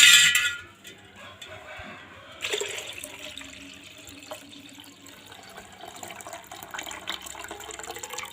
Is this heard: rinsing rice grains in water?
yes